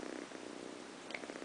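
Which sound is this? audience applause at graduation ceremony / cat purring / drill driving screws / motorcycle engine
cat purring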